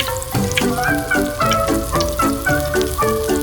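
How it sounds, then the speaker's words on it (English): A steady sizzle of chicken thighs frying in hot oil in a frying pan runs beneath a bouncy, repeating musical melody. "When the oil heats up, drop the chicken thighs into the frying pan."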